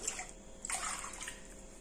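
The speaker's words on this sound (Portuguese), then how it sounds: "aqui na panela, nós vamos colocar as 2 xícaras de água" Two cups of water poured from a cup into a cooking pan for churros dough, a steady splashing pour that swells briefly in the middle, close and moderately loud with no talk.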